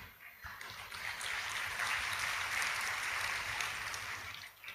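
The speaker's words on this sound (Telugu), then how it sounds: "చప్పట్లు కొట్టారు" An audience at a Bible sermon breaks into applause, a faint, even wash of many hands clapping that swells in after a brief pause, holds steady for several seconds, then starts to fade.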